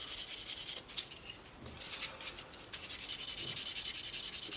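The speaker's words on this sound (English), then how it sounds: "with a very light sanding sponge. And take the seams out." A light sanding sponge rubs over the seams of a Tamiya 1/32 F-16C/J plastic model engine, making soft rhythmic back-and-forth scratchy strokes, close and quiet, with no speech.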